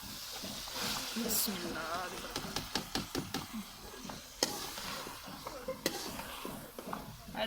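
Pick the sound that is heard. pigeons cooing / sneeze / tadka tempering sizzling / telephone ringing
tadka tempering sizzling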